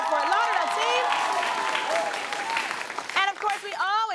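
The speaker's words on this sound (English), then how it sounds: "big round of applause for our Fort Lauderdale team" A crowd claps for the Fort Lauderdale team at a school quiz competition, a brief burst of applause under a loud, animated voice and whoops, with tonal chatter rising over the clapping toward the end.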